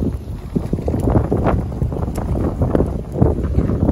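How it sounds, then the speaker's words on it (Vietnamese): A strong, cold wind blows outdoors on a residential street, buffeting the microphone in loud, uneven rumbling gusts that keep going throughout and sit close and heavy, with no voices. "Gió mạnh dữ lắm mọi người,"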